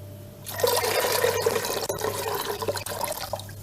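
Water runs steadily into a cooking pot of wheat being readied for ashure, a continuous close, full splashing pour that lasts several seconds with slight fluctuations and no talk.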